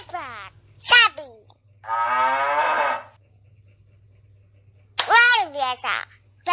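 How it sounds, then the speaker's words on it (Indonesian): A cow mooing in a children's animal sound lesson: one long, steady moo rises clearly between brief spoken words from a child-like voice and a narrator, close and loud over a faint low hum. "Sapi."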